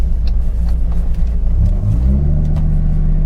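Rumbling V10 engine of a 1997 Dodge Viper GTS with a worn drive shaft, heard from inside the car as it accelerates, loud and low with the pitch climbing steadily.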